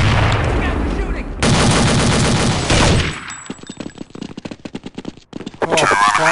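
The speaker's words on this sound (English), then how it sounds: "Look out, they're shooting!" Dense bursts of automatic gunfire from the Counter-Strike: Condition Zero video game, loud and continuous for about three seconds, then sparser rapid shots and clicks, ending in another sustained volley.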